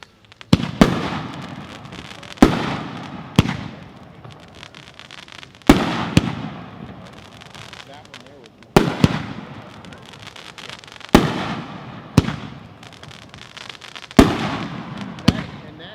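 Tokyo Time Bomb fireworks cake, nine shots, at a fireworks convention demo: loud booming launches and bursts fired at irregular intervals, each followed by crackling echo and rumble.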